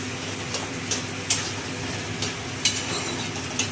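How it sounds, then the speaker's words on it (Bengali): Taro leaves with turmeric are stirred in a pan over a soft, steady sizzle, punctuated by a few sharp spatula taps at irregular intervals. "এবার হলুদ দিয়ে আবার নাড়াচাড়া করবো।"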